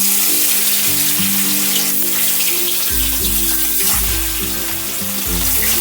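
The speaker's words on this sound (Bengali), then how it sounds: "এবার আমি মাছগুলো ভেজে নেব।" Pieces of katla fish sizzle in well-heated oil in a kadai, a steady crackling hiss that runs under loud background music throughout.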